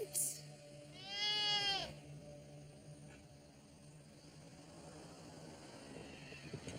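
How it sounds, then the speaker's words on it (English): Goats bleat from an argan tree on an argan oil plantation in Morocco, one wavering, drawn-out bleat standing out near the start before quieter background ambience. "A tree full of goats."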